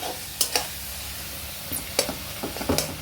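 Tomatoes frying with chili powder in oil for hilsa fish curry, a steady low sizzle broken by several sharp scrapes and clinks of a spoon stirring in the pan, close and moderately loud, no talking.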